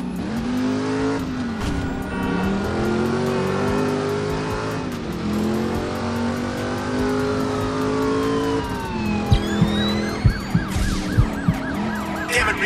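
Police and emergency sirens wail in the driving game Driver San Francisco, sweeping up and down over a steady car engine hum, with a few sharp thumps near the end and no talking.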